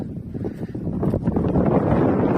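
Steady outdoor wind rushing and buffeting against the microphone, a low continuous roar that swells slightly, with no talking.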